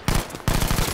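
Battlefield 5 gunfire in two loud, close automatic bursts, separated by a short gap.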